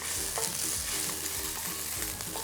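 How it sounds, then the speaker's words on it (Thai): Sliced bologna sizzles loudly in hot oil in a frying pan, a dense continuous crackle with stirring scrapes throughout and no talking. "ผมจะเอาโบโลน่านะครับ ที่หั่นเตาเอาไว้เนี่ยใส่ลงไปนะครับ"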